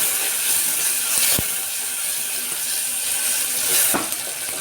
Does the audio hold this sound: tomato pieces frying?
yes